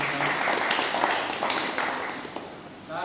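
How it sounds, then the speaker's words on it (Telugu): Audience at a gathering gives a guest a short burst of dense, close clapping that swells and fades over a few seconds. "ఒకసారి సార్కు చప్పట్లతో అభినందించారు"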